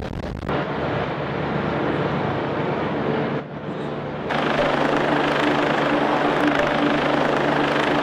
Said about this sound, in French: l'hélicoptère de la sécurité civile arrive enfin